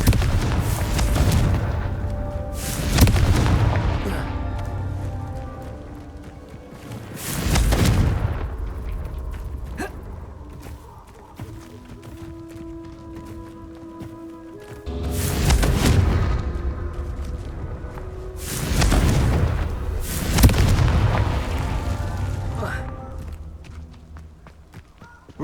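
Booming Confringo blast spells in the video game Hogwarts Legacy, several heavy explosions with rumbling tails arriving in irregular bursts, loud and close, with a faint voice here and there.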